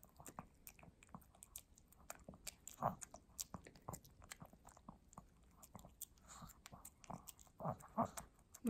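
A Pomeranian dog chews wet dog food up close, with rapid, irregular wet smacks, bites and lip sounds continuing throughout at a soft volume.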